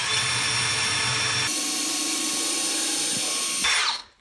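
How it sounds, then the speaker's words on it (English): Power drill boring a pilot hole down into a floor joist from above, a loud steady whine that shifts pitch midway as the bit bites, then spins down and stops. "I'm gonna do my first pilot hole right here."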